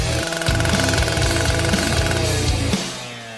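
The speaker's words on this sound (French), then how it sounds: "Je n'ai plus besoin de la scie." A saw cutting through berries, a harsh, rapid rhythmic chugging like a jackhammer that runs loud and steady for nearly three seconds before stopping abruptly, with no voices.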